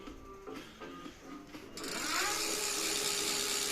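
A 350 W, 36 V electric bicycle hub motor (Electric 26r, 26-inch, 13 Ah battery) spins up partway through after a quieter start, then holds a steady, loud, close whirring hum.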